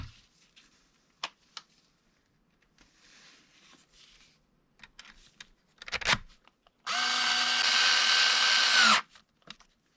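Power drill driving screws into a custom fan guard on a 1/5 scale RC car, one sustained whirring burst of about two seconds after scattered handling clicks and taps, close and otherwise quiet.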